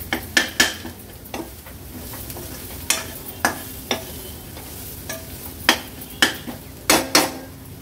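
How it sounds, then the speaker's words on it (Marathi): Ground spice paste for a spicy Agri-Koli style crab curry is stirred in hot oil in a pan, giving a steady sizzle broken by repeated sharp scrapes and clinks of the spoon against the vessel, close and clear. "वाटण पण तेलावर असं परतून घ्यायचे।"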